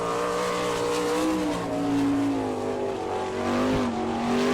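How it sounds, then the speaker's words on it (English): Car number 20, an Eagle-chassis sprint car from Butler, Pennsylvania, running a qualifying lap at Attica, Ohio, its engine a loud, sustained high-pitched roar with pitch rising and falling through the corners. "Brian Ellenberger qualifying right now in car number 20 from Butler, Pennsylvania."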